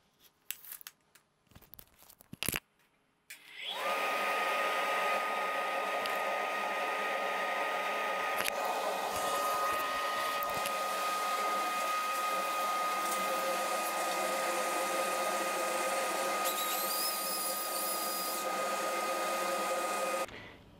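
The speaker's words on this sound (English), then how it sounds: "now I'm going to turn on the dust collector and we're going to see what our volume jumps to" Delta dust collector with a cartridge filter switching on after a few handling clatters, then a loud steady roaring whoosh of fan and airflow holding for nearly twenty seconds before cutting off.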